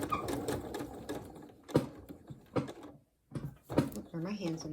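Sewing machine stitching quilt seams, a rapid mechanical whirring that starts and stops in short runs, with someone talking over it close by.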